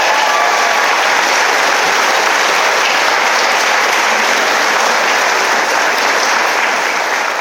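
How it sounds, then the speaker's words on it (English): Loud, dense audience applause for award winners at Casella's 2023 home office Core Values Champion celebration, a thick unbroken roar of many hands clapping close by from start to finish. "So how about a large round of applause for all our Core Values Champions Award winners."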